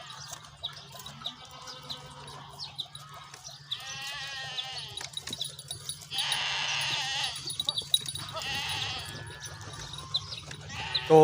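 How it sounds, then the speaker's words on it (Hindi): Sheep and goats bleat in a village pen, several overlapping calls rising and falling over a steady low hum, with faint bird chirps around them. "जानवर मिक्स हैं, हमारी भेड़ें और बकरियां।"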